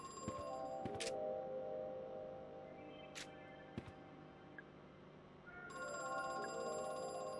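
An old telephone rings inside a dim location in the horror game Crow Country, bright repeating bell tones starting, pausing, then resuming loudly over a low ambient hum, with no one speaking over it.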